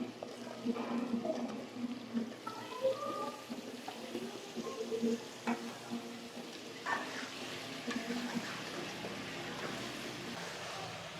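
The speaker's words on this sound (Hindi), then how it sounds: "2-3 मिनट के लिए हमने इनको अच्छी तरह से फ्राई करना।" Potato slices shaped like cutlets fry in oil in a pan, giving a soft, steady sizzle and bubbling throughout, with a few faint clinks from a utensil in the kitchen.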